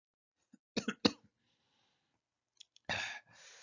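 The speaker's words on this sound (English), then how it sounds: "I have a bit of a cough." A couple of short, sharp coughs close by, followed after a pause by a throat-clearing burst and a breathy exhale.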